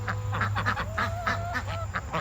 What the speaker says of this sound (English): I'm pretty sure that guy right there is a rooster